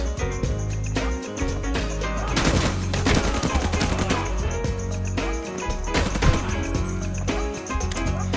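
ACC E31 assault rifle fire in a video game: dense automatic bursts of sharp, loud gunshots with a heavy rattling intensity, rising into two fierce volleys mid-clip with brief gaps between.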